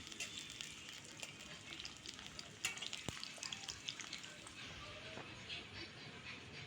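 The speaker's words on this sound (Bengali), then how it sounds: "এখন আমি ঝাল কাঁচা ঝাল আর পেঁয়াজগুলো দিয়ে দিচ্ছি দিয়ে এখন আড়াচাড়া দিচ্ছি" Green chilies and onions fry in oil while being stirred in a pan, a faint steady sizzle with light scraping and occasional clicks of the utensil.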